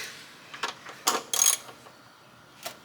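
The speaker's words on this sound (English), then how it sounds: "See if I can break the bolt." Ratchet wrench working a 9/16 bolt on a 1967 Impala: a few short, faint clicking bursts spaced unevenly, the loudest pair near the middle, then one last click, with quiet background between and no talk.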